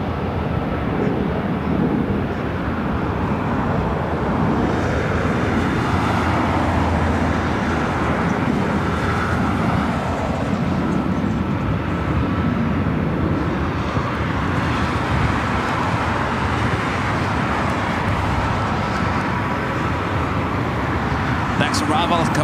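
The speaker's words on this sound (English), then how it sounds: "That's the A330 Neo heading to Paris" An Airbus A330neo airliner takes off from the south runway at LAX, a loud, steady broadband jet roar that holds for the whole stretch, with voices talking faintly underneath.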